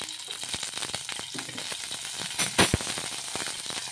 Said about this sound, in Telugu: పచ్చిమిర్చి కూడా వేసుకొని కొద్దిగా నూనె వేసుకోవాలండి